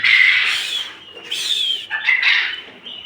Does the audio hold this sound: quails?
yes